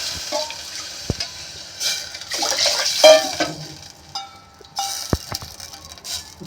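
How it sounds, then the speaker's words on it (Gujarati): Water poured into a pot of tempered rice with whole red chillies and cloves for green toor khichdi, a gushing splash swelling and fading in bursts with clanks of the vessel, close and loud. "પાણી નાખવાનું."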